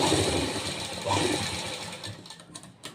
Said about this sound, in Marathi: आता लगेच याच्यावर आपण दाब शिलाई करून घेऊया